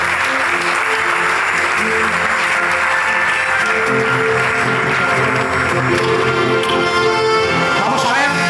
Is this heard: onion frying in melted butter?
no